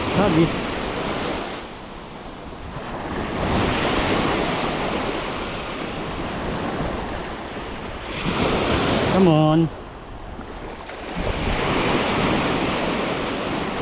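Surf at high tide rolls and crashes on a windy white-sand beach, a loud continuous wash with swelling surges and wind buffeting the microphone, and a brief voice partway through.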